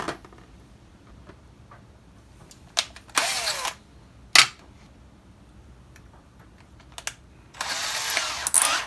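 A power drill is being prepared for a bigger bit in a home building job: short mechanical clicks and rattles, a few whirring bursts of the drill, and brief ratcheting sounds, close and fairly loud with pauses between.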